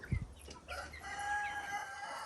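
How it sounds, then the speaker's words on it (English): A pet Icelandic-type rooster crows on a backyard farm, a single drawn-out cock-a-doodle-doo rising clear and fairly near after a few soft clucks from other chickens. "now that's Hector crowing"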